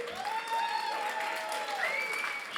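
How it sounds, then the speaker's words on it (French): An audience at a local television awards ceremony in Morbihan applauds a live act, a full, continuous wash of clapping with a tonal sound ringing above it. "Voici Juicy en live, applaudissez-les"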